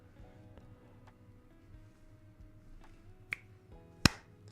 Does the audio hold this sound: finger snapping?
yes